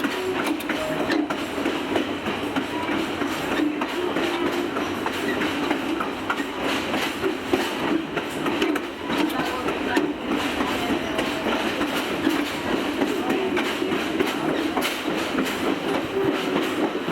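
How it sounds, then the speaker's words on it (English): An Adirondack Scenic Railroad train running slowly through the Thendara–Otter Lake section in 2018, with a steady rumble and rhythmic clickety-clack of wheels over rail joints, close and continuous. "Here it looks like the train's taking it a little bit easier."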